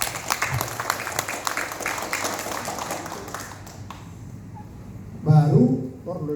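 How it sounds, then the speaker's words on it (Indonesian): An audience at a speech event applauds, steady broadband clapping for a few seconds that dies away, followed by a voice speaking close to the microphone. "Tepuk tangan sekali lagi dulu."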